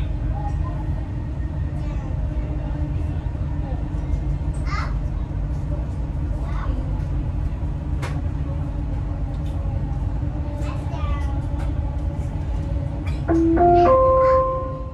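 A Dubai Metro train ride on the line toward Expo 2020, with a steady low rumble of the moving carriage throughout, faint voices in the car, and rising tones near the end.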